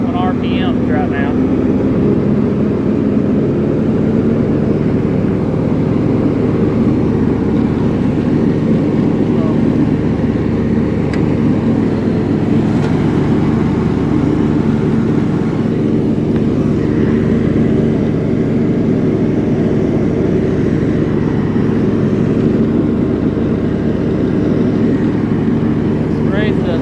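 An old John Deere riding mower, revived after two years of sitting, runs at low RPM with a steady, close engine drone throughout. Someone talks over it at times.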